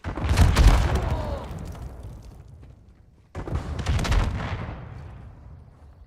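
A Semtex grenade detonates in a video game with a heavy booming blast that rolls off slowly, followed a few seconds later by a second loud explosive burst and its fading tail, with no voices heard.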